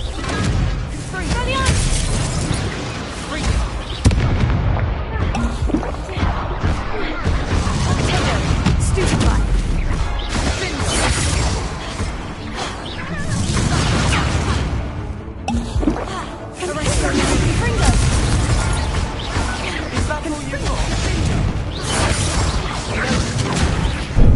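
Confringo blasting spells exploding in Hogwarts Legacy, a dense, loud run of crashing booms and smashes that barely lets up, with a voice speaking over the din.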